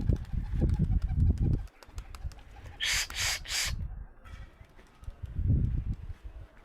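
Low pigeon coos rumble in bursts, broken by a brief flurry of flapping wings in the middle.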